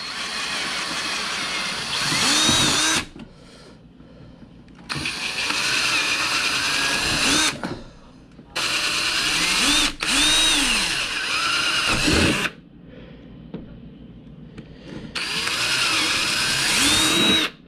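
A power drill boring holes for fitting a tailgate on a Maxx-Zilla truck, four loud whining bursts of a few seconds each, separated by short pauses, close and with no talk.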